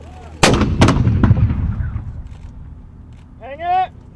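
U.S. Army mortar crew firing rounds in Afghanistan: two loud, sharp blasts close together near the start, a third weaker report after, then rumbling decay and a brief tonal whine near the end.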